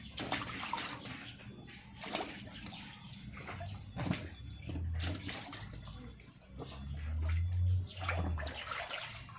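A young child swimming and splashing in water, with repeated irregular splashes and sloshing waves close by, some surges heavier than others.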